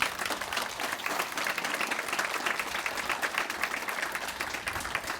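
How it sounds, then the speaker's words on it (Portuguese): A crowd at the inauguration of a parish complex in Rio Tinto, Esposende, claps in steady, dense applause that goes on for the whole stretch without a break. "merece uma salva de palmas"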